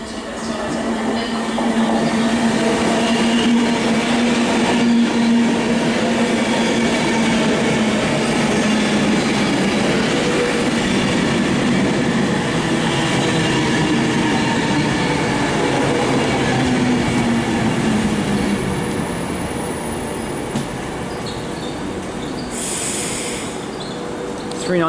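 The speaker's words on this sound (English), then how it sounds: "departing now is the 1204 Virgin train service to London Euston" Virgin train pulling out of Stockport station on the West Coast Main Line, a steady loud rumble of wheels and engine building and holding throughout, with faint squeal near the end.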